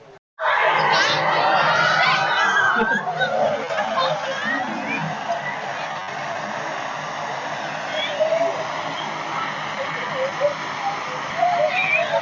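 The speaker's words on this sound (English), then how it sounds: "It's spraying water." Water sprays in a steady broad rush onto a crowd of people in Da Nang, Vietnam, with excited shouts and cheering mixed in throughout, loud and close.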